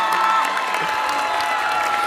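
A graduation crowd at Central East High School honors the class of 2025 valedictorians and scholars with steady applause and cheering, clapping and whoops blending into a sustained roar that fills the hall.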